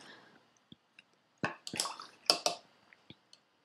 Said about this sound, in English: every time I'm using different color, I'm cleaning my brush